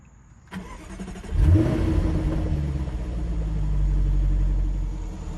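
A Jaguar F-Type R engine, in dynamic mode, cranks and fires up with a loud roar, then settles into a deep, steady idle rumble nearby.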